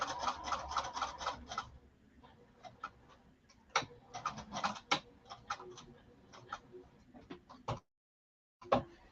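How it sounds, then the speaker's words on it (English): A sewing machine back tacks across lining fabric, its needle clattering in quick rhythmic bursts of close mechanical ticks, pausing and restarting, with a brief silent gap before a final short run. "So I'm going to just back tack to get some of that thread, that extra thread away."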